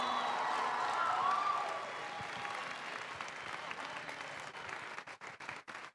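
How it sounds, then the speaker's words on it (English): An audience at a robotics competition qualifier applauds the playoff teams in steady, dense applause that carries on for several seconds, then thins into scattered separate claps near the end. "can we please get one huge round of applause for all of our playoff teams here?"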